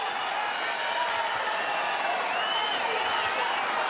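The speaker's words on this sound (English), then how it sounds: "Fans showing their appreciation for these two ladies" The crowd at a women's title boxing bout, Jessica McCaskill against Erica Anabella Farias, claps and cheers in a steady, dense wash, with whoops over the noise and a commentator talking above it.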